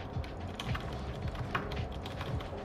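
Fingers type on a large computer keyboard during a game of League of Legends, a quick, steady patter of close, light key clicks continuing throughout without pause.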